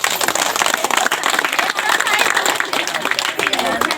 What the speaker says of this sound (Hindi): हम बहुत ताली बजवाए